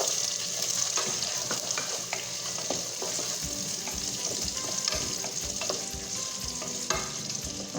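Celery for clam chowder sizzles in a hot pot, a dense steady frying hiss with a utensil stirring and clinking through it, close up and without speech.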